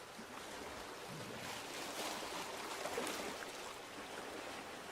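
Flowing water and gentle waves wash softly and continuously, a faint, steady hiss of stream and surf with no voices.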